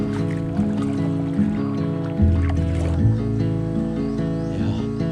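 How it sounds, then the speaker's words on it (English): A tour boat in southern Thailand, heading south toward Panak Island, drones along with a steady, tonal engine hum. The motor pitch shifts a few times over a watery wash, with no talking. "we climbed onto the boat and headed down south to Panak Island"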